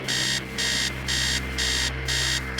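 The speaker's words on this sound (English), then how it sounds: "Upstairs, the sound of an alarm clock blaring." An alarm clock blares in the horror game Stories Untold, a loud, steady electronic beeping in regular bursts of about half a second, repeating five times over a low background hum with no voices.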